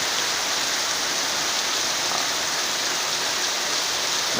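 Steady rain falls on a Sunday evening near six o'clock, with gusty wind around. The hiss is dense and even and carries on without a break, with no voices.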